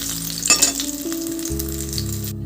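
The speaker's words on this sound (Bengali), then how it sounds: "প্রথমে আমি মাছগুলো ভেজে নিচ্ছি।" Fish fry in hot oil in a pan, a steady sizzle running throughout with a brief burst of louder spattering near the start and some steady hum underneath.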